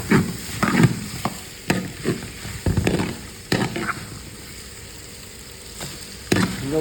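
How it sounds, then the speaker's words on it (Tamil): Onions frying and being stirred in a pan: a soft continuous sizzle punctuated by repeated scraping and clinking strokes of a spatula against the pan, close and fairly quiet. "வெங்காயம் கொஞ்சம் லைட்டாக செவந்தால் போதும்,"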